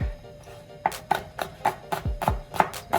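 Knife chopping a serrano pepper on a cutting board for a vegan coconut curry, giving about eight sharp, close taps at an uneven rhythm with a quiet pause before them.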